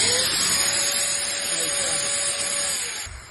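Festool vacuum motor, pulled from a vac that has power but won't start, runs while wired straight to wall power and clamped in a vise, giving a steady loud whine with broadband hiss that holds throughout and fades slightly at the end.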